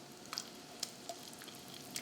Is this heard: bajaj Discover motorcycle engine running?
no